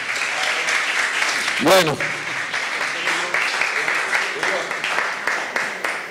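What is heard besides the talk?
audience applause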